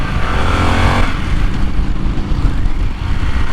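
A 2023 Harley-Davidson Pan America Special motorcycle ridden in sport mode gives a loud, steady engine drone with heavy wind rush, heard close from the rider's position, easing slightly after the first second.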